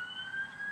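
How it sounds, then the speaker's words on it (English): An emergency-vehicle siren sounds outside in a city, a faint, steady high wail heard only for a moment with no talking over it. "excuse the siren there"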